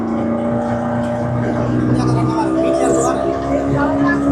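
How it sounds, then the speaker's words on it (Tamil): A small passenger boat speeds up on a crossing to Delft island off Sri Lanka. Its engine holds a loud, steady drone that swells slightly, mixed with rushing water and wind. "பாருங்க வண்டி ஸ்பீடு ஆயிடுச்சு"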